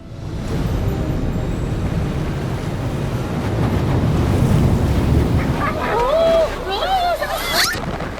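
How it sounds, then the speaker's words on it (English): Tidal bore wave, a towering wall of river water, surging and breaking against a stone embankment behind a low fence; a loud, continuous roaring rush with wind buffeting, and faint shouts and whistles rising near the end. "The wave breaks right in front of you. Water splashes all over you."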